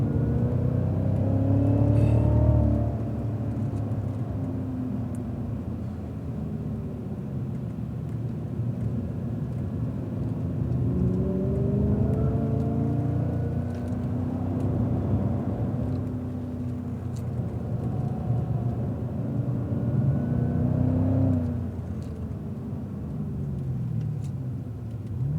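A Cadillac CTS-V accelerates around a race track, its engine droning in a low rumble from inside the car, with several rising pitch sweeps as it accelerates and shifts, loud and continuous.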